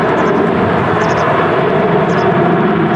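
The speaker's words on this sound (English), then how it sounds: "There goes the Jet2 737" A Jet2 Boeing 737 passing at Manchester Airport during stormy crosswinds, a loud continuous broadband engine roar with strong wind noise that stays heavy and unbroken throughout.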